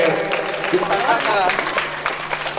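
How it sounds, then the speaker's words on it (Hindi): Audience applause at a stage inauguration ceremony for the NCM Championship 2025 while the founder lights a ceremonial lamp; steady, dense clapping from a crowd continues throughout, with a voice talking over it. "ताली आप लोग बजाते रहे"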